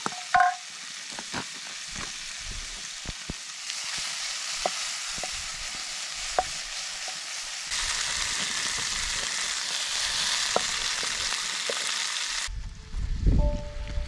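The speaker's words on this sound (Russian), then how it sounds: "На ужин немного жареного мяса." Meat sizzles and spits steadily in a pan for dinner at a forest outdoor kitchen after dark, with scattered crackles and stirring scrapes, a brief louder rumble near the end and no talk.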